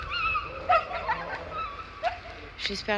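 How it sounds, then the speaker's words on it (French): Several agitated dogs outdoors in Tamraght, Morocco, let out scattered yips and short barks at moderate distance, with whimpering between them, while a person talks nearby over the sounds. "Regardez les chiens là. Ils sont genre un peu énervés."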